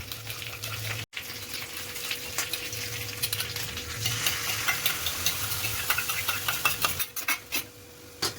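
Schezwan chutney being stirred into chicken in a pan for Schezwan malai chicken, with steady frying sizzle and scraping spoon strokes throughout, a brief cut near the start, and sharper clinks toward the end.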